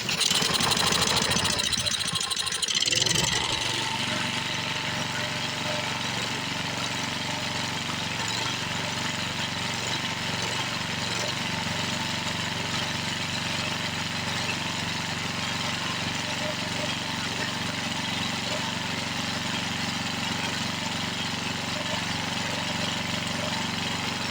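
An abandoned Toro Recycler lawn mower is being revived: its small engine fires with a rough, loud burst for a few seconds, then settles into a steady, continuous running drone close by.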